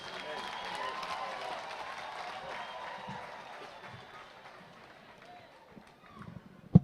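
Applause from the audience at a university graduation ceremony, a broad, moderately loud wash of clapping that gradually fades out, with a few sharp knocks at the end.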